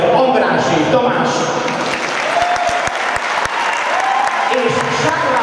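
An audience at an anniversary celebration applauds the two conductors with steady, full applause, joined by a few sharp claps and some faint voices and murmurs.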